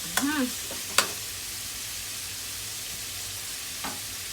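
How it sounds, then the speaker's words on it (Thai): Cabbage and pork belly are stir-fried in a pan, giving a soft, steady sizzle with a few sharp scraping stir strokes near the start and one more later. "ผัดกระลำใส่หมูสามชั้น"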